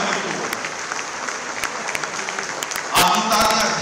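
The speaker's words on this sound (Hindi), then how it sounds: "आपकी तालियां धीमी नहीं पड़नी चाहिए।" An audience at a national Sindhi convention in Lucknow applauds, a continuous wash of clapping that swells louder near the end, with a voice speaking over it.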